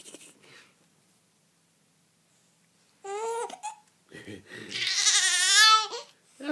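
A baby makes wavering, bleating vocal sounds like a little sheep, two loud bursts with quiet between, and an adult voice speaks briefly at the start.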